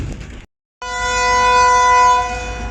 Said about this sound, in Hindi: Shalimar express Faisalabad railway station पर पहुंच रही है